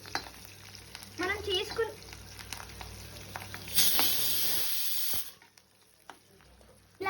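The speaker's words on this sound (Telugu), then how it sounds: "ఇంగువ వేసుకోవాలి. కలుపుకోవాలి." Asafoetida is stirred into a sizzling tempering in a pan for tomato pachadi, with light scraping, a brief spoken phrase, then a loud hissing sizzle that swells for about a second before dying back to quiet.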